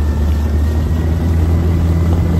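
A small 15hp outboard motor on a Takacat 420lx inflatable boat drones steadily at quarter throttle, a continuous low hum with wind buffeting, close and fairly loud throughout.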